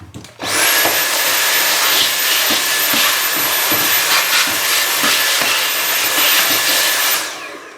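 A vacuum cleaner (hoover) switches on and runs, cleaning up a potting tray after repotting mini Phalaenopsis orchids; loud, steady whining hiss close by, sustained for several seconds before cutting off, with no speech.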